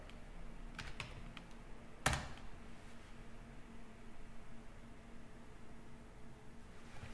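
Keys clack on a computer keyboard as a command is typed, a few light taps then one sharp louder strike, all quiet and close against a faint steady hum, with no talking.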